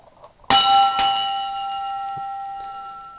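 A metal bell rung by a resonating joule thief coil circuit gives two sharp strikes about half a second apart, then a clear ringing tone that decays slowly, close and loud with no talk.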